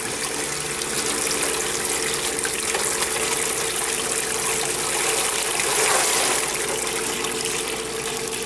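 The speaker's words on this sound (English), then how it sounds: "I'll show you what it looks like when I pour it into the top of the pan here in just a moment." Homebrew wort pours into a pan in a steady, close, rushing stream of liquid that swells slightly toward the end.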